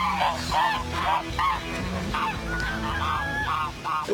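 Geese honk repeatedly in a loud, rhythmic series of nasal calls, close by, with faint background voices.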